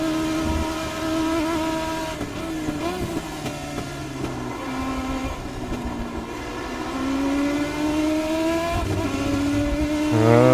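Race car engine in a racing video game downshifts at Paddock Hill, its loud, close whine dropping and climbing in pitch through several gear changes before revving harder at the end, with no voices.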